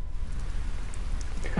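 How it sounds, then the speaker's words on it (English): Steady in-game rain from the Harvest Moon: Save the Homeland video game, a continuous even hiss with a few faint chimes near the end. "it's going to rain, and it is most definitely raining"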